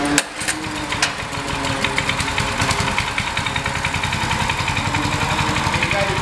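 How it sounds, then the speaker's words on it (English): JLM 37-inch walk-behind concrete power trowel with a 5.5hp gas engine starting: a pull and catch, then a loud, close engine settling into a fast, steady putter. "So we'll go ahead and start it here."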